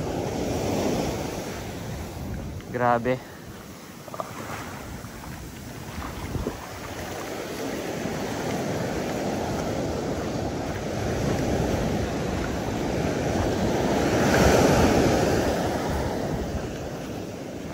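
Sea waves wash and crash continuously onto the shore under gusting wind and heavy microphone buffeting, with a brief exclaimed word near the start.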